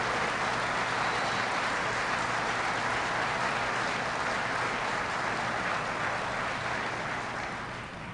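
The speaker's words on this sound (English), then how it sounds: "Give George Shedd a big round of applause." Dense, sustained audience applause at a presidential event at a Caterpillar plant, loud and even for the whole stretch, a broad wash of clapping that tapers slightly at the very end.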